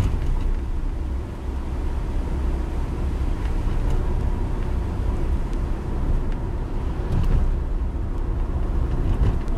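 Suzuki Jimny 1.3 GLX three-door driving down the road at speed, with a steady, dense engine and road drone that stays loud and even throughout, no talking.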